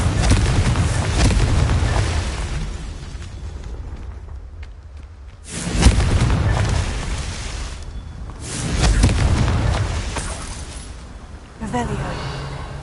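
Confringo spell blasts in Hogwarts Legacy: three or four booming explosive bursts, each swelling and fading, spaced a few seconds apart, loud and close.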